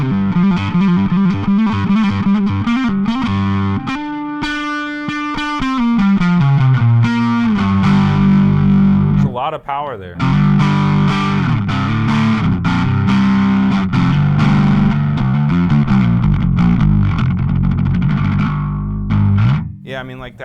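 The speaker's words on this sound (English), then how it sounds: "it's a good sounding bass" Fender Player Precision bass with a maple neck played through distortion and effects, giving sustained gritty notes and slides with a loud, full tone, while a voice comments briefly over it.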